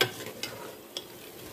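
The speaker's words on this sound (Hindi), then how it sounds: "पानी डालकर इसको अच्छी तरह मिक्स करेंगे।" A spoon scrapes and knocks around a pot of chicken and green bean curry just after water is added, in a few soft, uneven strokes, with a faint sizzle underneath.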